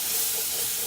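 Milk poured into a hot roux gives off a steady, even hiss with no break or change in loudness. The sound lasts under a second, and no one talks over it.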